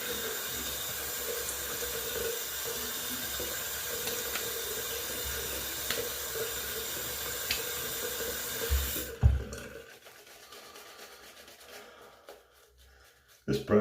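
Tap water runs steadily into a sink while a shaving brush is wetted, a continuous close splashing flow that cuts off abruptly near the end, leaving quiet room tone.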